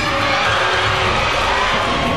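Crowd at the Survivor Philippines season 3 Final Four stage cheering and shouting, a dense, steady roar with whoops throughout, loud and sustained.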